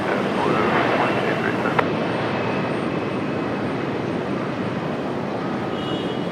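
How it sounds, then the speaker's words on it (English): A JetBlue airliner landing at Raleigh-Durham airport produces a steady, broad engine and wind roar that holds evenly throughout at moderate distance. "A nice, smooth, quiet arrival for JetBlue"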